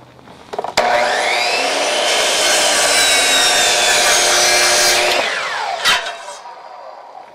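A saw cuts a board in half for a raised-bed garden planter, a loud continuous rasping run of about four seconds between a brief start and a clatter as the cut finishes.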